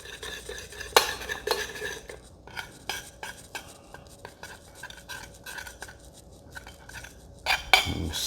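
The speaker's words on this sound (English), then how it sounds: "So I'm just going to blend this together in a saucepan." A utensil stirs barbecue sauce in a metal saucepan, with steady scraping and clinking against the pan and a few sharper knocks near the start and end.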